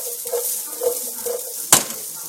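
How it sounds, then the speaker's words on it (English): Diced onion sautéing with ginger in a pan for chilli chicken, heard as a soft sizzle under repeated light scrapes and stirs of a utensil, then one sharp clack of metal against the pan near the end. "I'm just going to have to put a diced onion, and then you're just going to have to saute it with the ginger"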